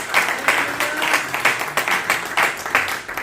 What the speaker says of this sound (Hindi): या तालियां बजा दो भाई बहन के लिए